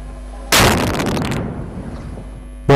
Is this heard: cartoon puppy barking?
no